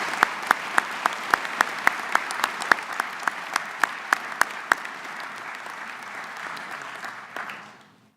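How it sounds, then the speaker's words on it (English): An audience at a university College of Engineering fall commencement applauds the degree candidates. Broad sustained applause carries a run of distinct loud single claps in front, then fades out at the end. "One more round of applause for all our candidates."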